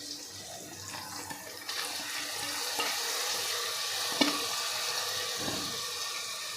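Washed lentils go into a sizzling tempering for Marathi fodnicha varan and are stirred, a close, steady hiss of frying oil with a few utensil knocks and a brief louder clatter.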